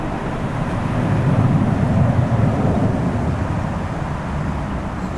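A SunExpress airliner takes off and climbs away from Manchester, a steady broadband jet roar that swells slightly and then holds, with no talking.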